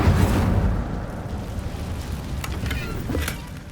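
Incendio fire spell cast in Hogwarts Legacy, a roaring burst of flame that swells at the start and then crackles and hisses steadily, with a few sharp pops near the end.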